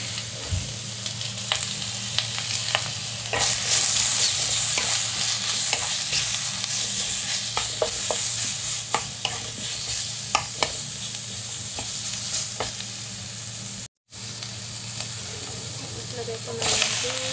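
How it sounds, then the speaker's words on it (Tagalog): Meat sizzles and fries in a pan with squash and Baguio beans for a Filipino ginisang kalabasa dish, a constant close hiss broken by repeated scraping stirs of a utensil. "Fry."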